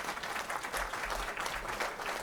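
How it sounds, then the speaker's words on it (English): A small group applauds briefly at a podcast recording about actors booking commercials, with steady dense clapping sustained for a couple of seconds at moderate level. "Can you applause yourself, please?"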